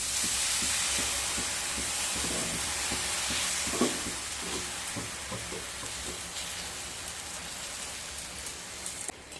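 Potato chilla batter frying in hot white oil in a frying pan, a steady broadband sizzle like light rain, close and continuous with a few soft stirring taps.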